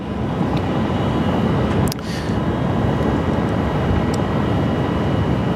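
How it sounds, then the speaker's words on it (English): A Qantas Airbus A330 airliner rolls for takeoff at Sydney Airport, a steady, loud broadband engine roar that holds level throughout, with one brief clunk near the start. "Qantas 330 on the roll now."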